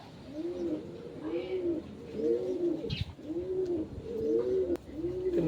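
Repeated soft, throaty coos from a racing pigeon in a steady rhythmic series, close by, with faint background noise and an occasional brief click.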